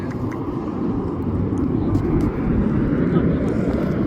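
A fixed-wing airplane flies over the Traverse City Airshow, a steady broad engine roar that holds loud and even throughout the clip, with faint speech underneath.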